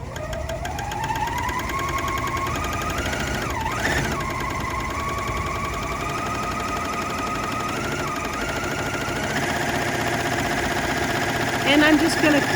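A sewing machine running a rolled hem on tulle scraps, a continuous mechanical whir and rapid stitching hum with slight shifts in speed, a voice talking over it.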